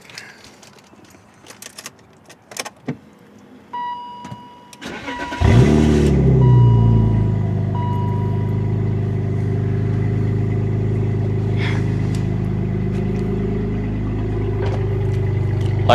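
A BMW E39 with a Valvetronic muffler and full custom catback exhaust cranks and fires, with a loud bark settling into a deep, steady idle rumble after a few light clicks and handling noises.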